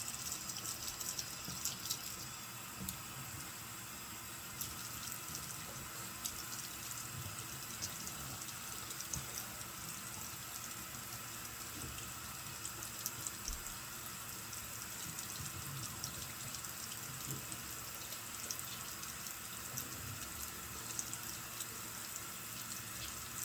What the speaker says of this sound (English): I gotta rinse my face